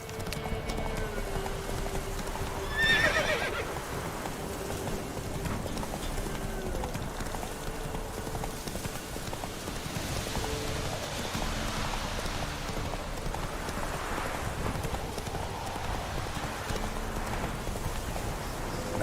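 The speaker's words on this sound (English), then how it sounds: "Run, Roach" A horse gallops in the video game The Witcher 3: Wild Hunt with steady rhythmic hoofbeats throughout, mixed with a rain-like hiss and a short whinny near the start.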